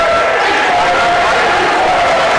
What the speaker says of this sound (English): A lot of noise, raucous crowd. It's a packed gym right now from every angle.